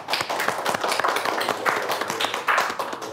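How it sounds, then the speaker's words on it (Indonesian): A crowd claps continuously in a dense patter of overlapping hand claps, with no one speaking. "Bang Anies Rashid Baswedan, tepuk tangan untuk semuanya."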